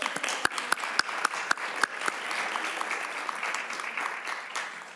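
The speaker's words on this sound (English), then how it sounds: "now we can applaud all the students" Applause for students in an education policy committee room, with several crisp individual claps up front, then softer, thinner clapping from a modest group that tapers off.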